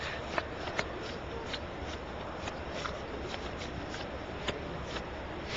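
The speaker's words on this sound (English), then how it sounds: "Masses want to learn how to shuffle like Masashiro Kuroda. Oh, I've been trying to... the Japanese shuffle." Magic cards being shuffled Japanese-style, a steady soft riffling rustle with small periodic clicks of cards snapping together, close and fairly quiet, no talking.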